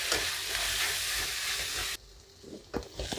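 Onions frying and being stirred for egg curry, a steady loud sizzle and hiss that drops away sharply partway, then returns more faintly with a few stirring scrapes.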